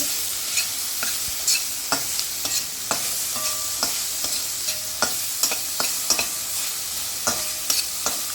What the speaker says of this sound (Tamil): ரெண்டு நிமிஷம் கொஞ்சம் வதங்கணும் நல்லா